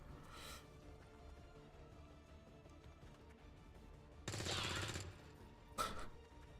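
Flanking gunfire against Advent Troopers in XCOM 2: a brief volley, then a longer dense burst, then one sharp crack, all fairly faint over a low game backdrop.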